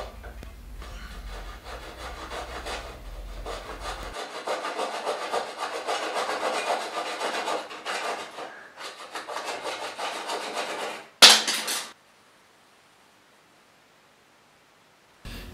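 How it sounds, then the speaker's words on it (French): A small Japanese handsaw rasps steadily through wooden binding on a baritone guitar in quick back-and-forth strokes, close up, ending with a brief clatter and then silence. "J'arrase l'excédent de filet avec ma petite scie japonaise."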